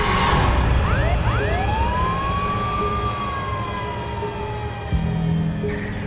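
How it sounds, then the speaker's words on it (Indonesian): Hearse siren wailing with rising and falling sweeps over a low engine rumble, loud and close, with no talking. "tiba-tiba sirine mobil jenazahnya berbunyi sendiri"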